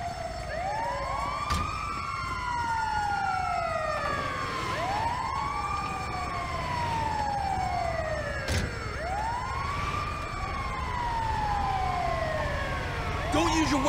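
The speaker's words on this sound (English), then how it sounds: "Oh, it's the ambulance!" An ambulance siren in GTA 5 wails in repeated rising and falling sweeps, loud and continuous over a vehicle engine rumble, with a few sharp clicks and thuds between the cycles.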